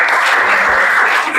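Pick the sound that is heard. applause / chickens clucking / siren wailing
applause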